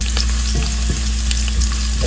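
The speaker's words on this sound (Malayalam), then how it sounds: "കടുക് പൊട്ടി വരുമ്പോഴത്തേക്കും അതിലേക്ക് ഞാൻ വെളുത്തുള്ളി അരിഞ്ഞ് വെച്ചത് ഇട്ട് കൊടുക്കുക" Chopped garlic fries in hot oil with mustard seeds for a bitter gourd and carrot pickle, a loud continuous sizzle with faint stirring scrapes and no talk.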